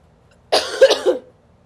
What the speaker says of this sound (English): I literally have not coughed all day until now.